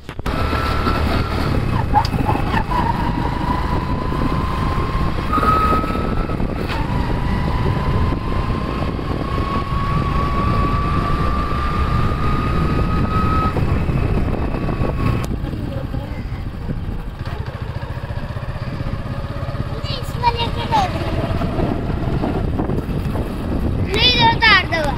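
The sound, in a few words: motorbike riding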